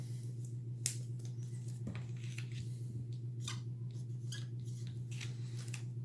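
Scissors cutting out a paper number line: a series of soft, close snips and crisp paper rustles at an uneven pace over a steady low background hum, with no voices.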